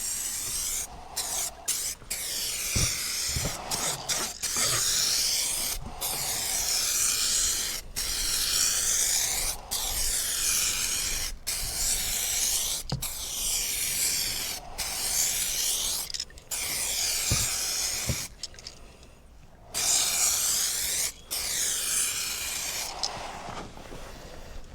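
Third coat of spray going onto a restored car headlight: a series of hissing spray bursts, some short and some several seconds long, separated by brief pauses, close and fairly loud.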